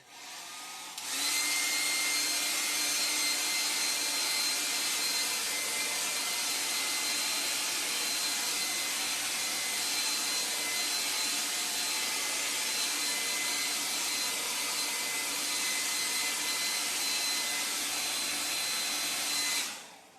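A hair dryer blowing to dry a watercolor painting, a loud steady whooshing roar that starts after a second and runs continuously for almost twenty seconds before switching off, with no talking.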